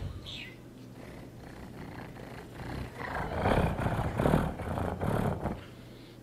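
A voice imitates a purring cat, a low rumbling purr that swells louder in the middle and fades toward the end, with brief vocal squeaks at the start.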